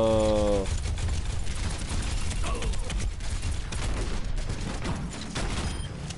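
Dense, continuous gunfire and combat noise in the Overwatch beta, a loud rattling barrage with booms that carries on throughout, after a brief tonal chime at the start.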